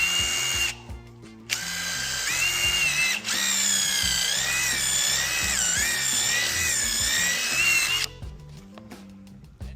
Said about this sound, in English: Drill as high as I can.